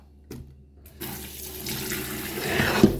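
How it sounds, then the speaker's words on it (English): Water runs steadily from a tap, starting after a few soft knocks and growing fuller and louder as it pours, like a sink or pot filling. "Let's add the water."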